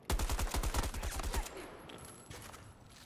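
Rapid automatic gunfire in the Battlefield 2042 video game, a dense rattling burst of shots close by for about a second and a half, then fading into quieter distant shots and ambience.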